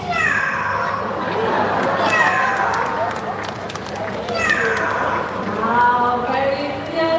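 A pet bird named Quincy imitates a cat's meow, giving several drawn-out, rising and falling mewing calls in close succession, alone and fairly loud at close range.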